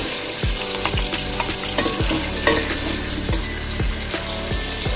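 Blended spice paste frying in a pan, a loud, steady close sizzle broken by regular scraping strokes of a spatula, roughly one every half second, with no voices.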